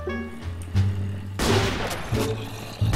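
Sniper rifle shots ring out in a Minecraft survival game on a zombie-filled island, a few sharp, loud cracks spaced about a second apart over a low droning background.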